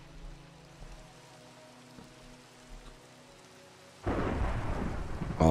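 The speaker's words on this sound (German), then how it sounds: "es gewittert auch noch." Minecraft rainstorm with thunder: a low, quiet rumble of distant thunder and patter for about four seconds, then a sudden loud burst of heavy rain and a close thunderclap filling the rest, with no talking.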